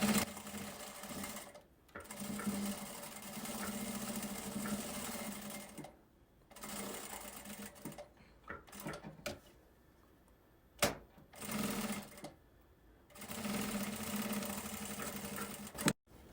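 Sewing machine stitching fabric for a children's 3D backpack, running in several bursts of steady whirring with short pauses and a few clicks between runs, close and moderately quiet.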